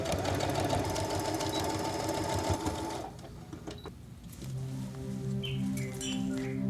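A sewing machine stitching ribbon down onto a coat sleeve, running with a fast, steady mechanical chatter close up, then pausing into a lighter, quieter hum and whir before picking up again, with no voices.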